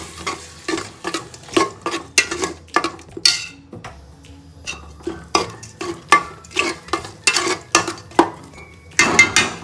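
Fried onion and ground masala stirred in a pan with a metal spoon, a string of close scraping, clattering strokes over a soft sizzle, with a short pause midway.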